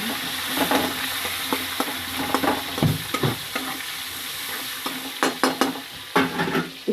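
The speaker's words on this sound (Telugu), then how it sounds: "ఇప్పుడు ఉల్లిపాయ వేద్దాం చూడండి" Onion and green chili frying in hot oil in a pan, a bright continuous sizzle broken by repeated close spoon scrapes and taps, some in quick bursts, fairly loud with no talking.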